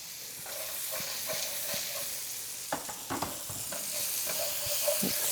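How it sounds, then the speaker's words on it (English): Onion added to leftover bacon grease in a pan for carbonara, a soft continuous sizzle with scattered spoon taps and scrapes, close but fairly quiet, with no talking. "The bacon grease that we have left in the pan, we'll go ahead and add our onion"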